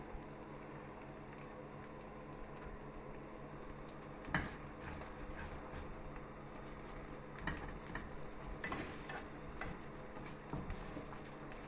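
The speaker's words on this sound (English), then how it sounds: "Cheese is certainly frying because of all that fat that's coming out of it." A cheese and chorizo sandwich fries in a pan as fat renders out, giving a quiet, continuous sizzle and crackle with a few louder pops and scrapes scattered throughout.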